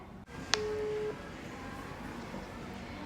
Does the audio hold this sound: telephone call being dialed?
yes